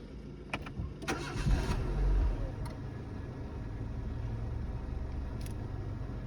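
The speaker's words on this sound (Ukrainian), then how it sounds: "Зараз заведу, послухайте як працює." A 1.6-litre petrol engine in a 2006 Renault Megane cranks and catches, then settles into a steady, low idle with an even rumble.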